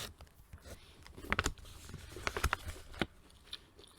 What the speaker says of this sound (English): I just need a piece of chocolate before I get into today's story time.